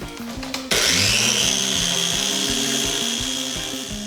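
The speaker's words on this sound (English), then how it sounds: "Keep sanding down the headlight until the clarity is back up there again" Steady abrasive rubbing of wet sandpaper against a car headlight, a short scratchy burst then continuous close, loud strokes with a low rhythmic hum beneath.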